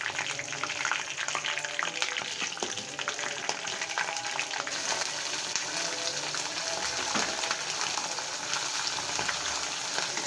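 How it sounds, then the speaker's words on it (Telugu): Cooked chicken tipped into a pan of gravy and stirred, a steady loud bubbling sizzle with scraping of the spoon throughout, no talking. "నెక్స్ట్ ఉడికించుకున్న చికెన్ ఇందులో వేసుకోండి"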